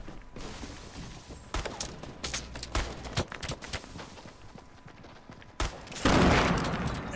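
Bursts of video game gunfire from Fortnite, dense fusillades and separate loud shots broken by short pauses, with a heavier, louder volley near the end.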